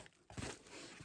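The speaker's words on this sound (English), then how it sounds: "We take more bubble wrap." Bubble wrap crinkles and rustles as it is wrapped around a breakable item being packed for shipping, a soft continuous crackling with a few louder crumples, close and quiet.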